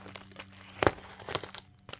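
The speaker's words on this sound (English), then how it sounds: "I'm going to finish cutting this open with some scissors here" Scissors slice through the tape on a package holding silver coins, giving one sharp crinkling snip followed by a few softer crunching cuts, close and fairly quiet.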